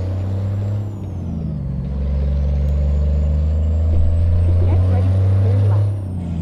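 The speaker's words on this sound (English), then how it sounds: "Like those air brake sounds." A truck in American Truck Simulator, a Peterbilt 359, rumbles with a low steady engine drone while air brakes hiss and release, close and fairly loud, with no talking.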